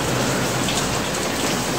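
Heavy rain pours down on a rooftop in Lahore, a loud, dense, unbroken hiss of falling water.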